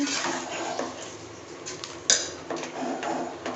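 Rice being stirred in a cooking pot with salt added for pulao, giving soft scraping and light clinks of a spoon against the pot, with a sharper knock near the middle, close and fairly quiet.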